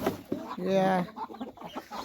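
Chickens cluck close by on a village poultry farm, one drawn-out squawking call standing out, followed by shorter clucks and faint murmuring in the background.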